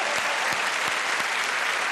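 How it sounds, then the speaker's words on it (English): Audience applause at a magic competition show as two volunteers are called up on stage: steady dense clapping from a crowd, fairly loud and continuous throughout with no voices over it. "Friends, give them a nice round of applause."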